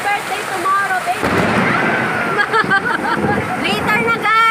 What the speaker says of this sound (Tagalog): Shower in the rain.